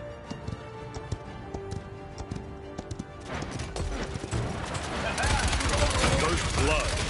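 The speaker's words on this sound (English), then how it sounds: "Why the fuck am I riding a horse?" Horse hooves clip-clopping while riding in the video game Paladins, a rhythmic trot under game music that swells into louder combat noise and gunfire bursts by the end.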